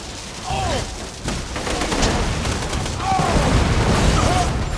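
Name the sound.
grenade explosion and gunfire in Borderlands video game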